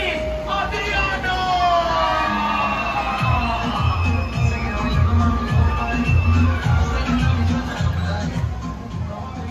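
A crowd at a resort cheers and applauds for a Miss Mexico contestant, loud and sustained, with whoops and rhythmic banging beneath a shouting announcer's voice.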